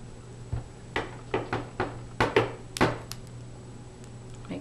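A table creaks several times while soap scraps are cut and set aside, giving a series of short, fairly close woody creaks and knocks spread unevenly across a quiet room with a faint steady hum behind them.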